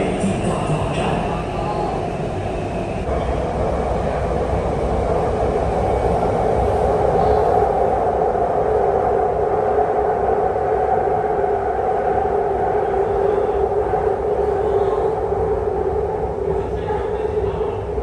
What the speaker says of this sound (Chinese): 列车即将到达美的大道站。